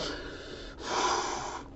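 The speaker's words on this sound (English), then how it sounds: "Gotta get my breathing right." A person breathes heavily through the nose and mouth, one long audible inhale-exhale cycle with a short pause midway, close and fairly loud.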